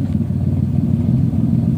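A 1986 Ford Ranger engine idles steadily through a homemade muffler-delete exhaust, giving a loud, low, rumbling drone close by with no talking.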